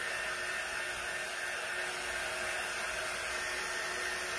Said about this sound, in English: And I'm constantly moving my dryer around, not letting it stay in the same spot